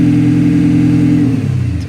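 An Audi A6 engine held at raised revs during diesel particulate filter cleaning, a loud steady droning hum that drops in pitch near the end as the revs fall, close and alone.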